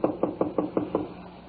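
Knocking on a door as a radio drama sound effect: six quick, evenly spaced, solid knocks sound close and clear with no voices over them.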